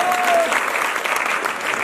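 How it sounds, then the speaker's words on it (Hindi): Audience at a theatre festival award ceremony breaks into dense, sustained applause, loud and even throughout the short stretch. "उन सब के लिए भी जोरदार ताली मिली"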